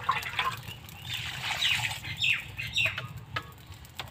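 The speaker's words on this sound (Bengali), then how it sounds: "এবার আমি জল ঢেলে দিলাম।" Water pours into a hot pan of browned potato curry, giving sharp hissing and squealing sizzle bursts that rise and fade over several seconds, close and moderately loud, with no talking.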